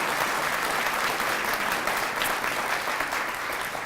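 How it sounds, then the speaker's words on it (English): A reception audience applauds steadily and evenly, a dense wash of clapping hands that stays at the same level throughout with no voices rising above it. "Can we give them all a big, huge round of applause?"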